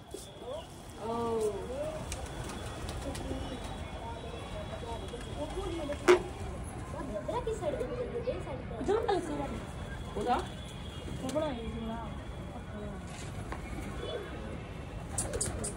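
Patiala pigeons coo repeatedly in a low, rolling rhythm during a fight, close by, under steady background noise and someone talking at times.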